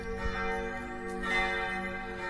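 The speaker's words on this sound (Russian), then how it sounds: "Ну вот звон колоколов, видите?" Church bells ring in Prague, a sustained layered tolling with steady resonant tones and a couple of soft strikes, heard at moderate distance over faint background ambience.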